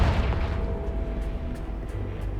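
A Confringo blasting spell explodes in Hogwarts Legacy, landing as a deep, rumbling boom that stays dense and loud across the whole moment with no talk over it.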